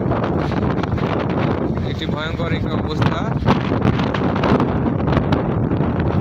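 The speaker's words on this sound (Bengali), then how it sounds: "গাছপালা সব বাতাসে উঠতেছে," Strong cyclone Remal wind roars steadily beside a rough, churning river, a loud continuous buffeting rush with someone talking over it throughout.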